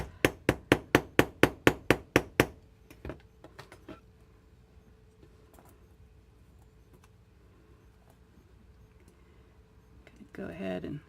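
A hammer strikes rivets on colored-pencil copper jewelry in a fast, even burst of about ten sharp metallic taps. Scattered lighter taps and handling noises follow in a quiet room.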